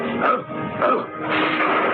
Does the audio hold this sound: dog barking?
yes